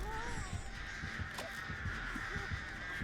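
Crows caw in a video game, several harsh cries against a steady background ambience, fairly loud and without speech.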